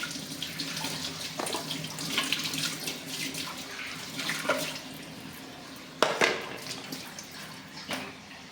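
A small pineapple is rinsed under a running kitchen tap, with a steady splashing stream broken by a few louder splashes as the fruit is moved and turned.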